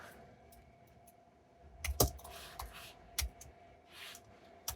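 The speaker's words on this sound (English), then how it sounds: "I'm typing with one hand." One hand types on a computer keyboard in sparse, irregular clicks and taps, close but quiet, with a few louder key strikes amid a faint room hum.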